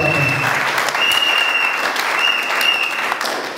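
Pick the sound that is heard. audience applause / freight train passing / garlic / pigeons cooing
audience applause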